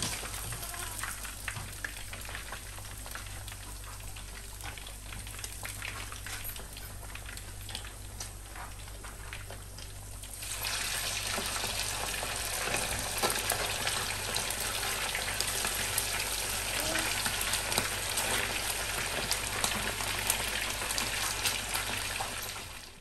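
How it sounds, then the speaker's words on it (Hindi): Fish fries in hot oil in a pan, giving a steady hiss and sizzle throughout that grows noticeably louder and denser about halfway through, with no talking. "तो यहाँ पे जो है ना वो मेरी फ़िश भी साथ साथ फ्राई हो रही थी"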